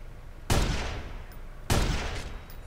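Two loud sniper rifle shots in the Watch Dogs video game, each a sharp crack with a decaying echo, about a second apart.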